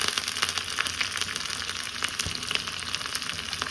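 Curry leaves, including tender young sprigs, crackle and sizzle in hot oil alongside onion and garlic for a drumstick, mango and brinjal sambar, a steady close frying hiss with sharp pops scattered throughout.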